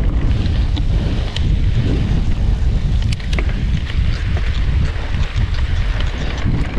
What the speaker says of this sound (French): Un petit vent de face aussi, là